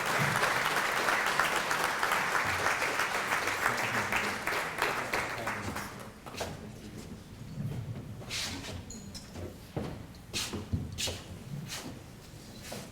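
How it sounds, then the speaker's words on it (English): Audience applause at an opening ceremony for a Caribbean development project: loud, dense clapping for about six seconds, then thinning to scattered claps and room murmur. "we want to give me a big round of applause as we welcome Mohammed Asaria to the podium."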